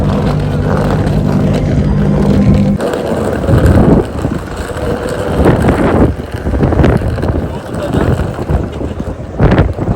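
Cold wind buffets a microphone outdoors on a street in Tokyo's Ueno and Akihabara, making a steady loud rumble with gusty swells. A voice can be heard under the wind.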